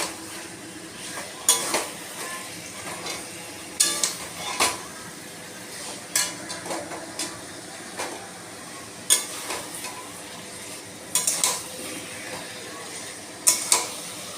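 Drained chicken pieces stirred in a hot frying pan for chicken bhuna, with intermittent scraping clinks of a utensil against the pan over a soft sizzle, repeating every second or two.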